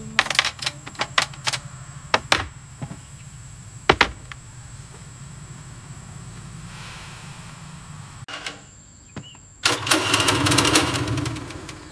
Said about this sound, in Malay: Halus betul bunyi enjinnya.